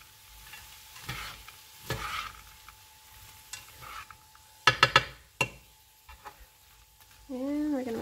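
Fried rice sizzles in a pan while a spoon stirs it, giving several scraping, clattering bursts over a soft steady fry. The bursts are spaced out, and a brief louder rattle comes near the end.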